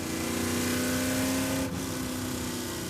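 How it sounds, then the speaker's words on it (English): A car engine at Laguna Seca race track, a loud sustained drone with a steady pitched tone that barely changes, heard close and alone. "that car's gonna violate the noise regulations here at Laguna Seca"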